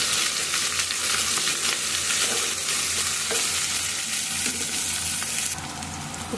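Chicken curry with fenugreek leaves sizzles steadily in a hot pan as it is stirred, a dense, bright frying hiss with occasional scraping, close up and uninterrupted.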